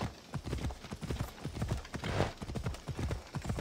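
Rapid, steady clip-clop of a horse's hooves in the video game Assassin's Creed Odyssey, a close, loud galloping rhythm running continuously without pause.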